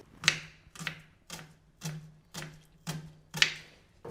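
A knife chopping food on a board in a home kitchen, with seven crisp, evenly spaced strikes about half a second apart, close and fairly quiet, with no speech.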